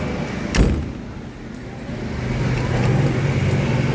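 A single solid thud marks the door of a new 2026 Mitsubishi L300 FB van shutting close by, followed by a steady low rumble of vehicle or road noise with no speech.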